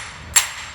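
A hammer gives a single light, sharp tap on a dental flask to release an acrylic partial denture, one quick knock set against a quiet room.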